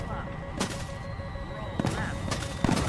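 Aircraft cannon fire from an F-16A in War Thunder, several short, sharp bursts spaced irregularly over a steady engine drone, with a continuous warning tone in the background.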